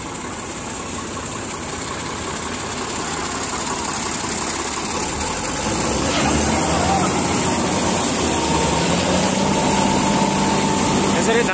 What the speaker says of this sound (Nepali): धान निकाल रहे थे मशीन से।